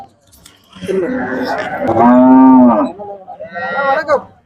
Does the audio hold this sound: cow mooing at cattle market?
yes